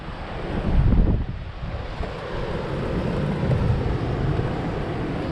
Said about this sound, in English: Wind about blew me over.